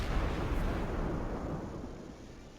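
A heavy naval gun salvo booms out in World of Warships, a broad rumbling blast that rolls and slowly decays, loud and close with no voices over it.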